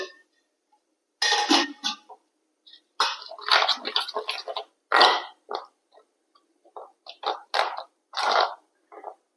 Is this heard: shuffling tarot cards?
no